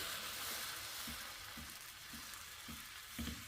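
Dosa batter sizzling on a hot pan, a constant bright hiss with soft periodic taps as the batter is spread, close and steady throughout.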